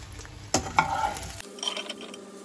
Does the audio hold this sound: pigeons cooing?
no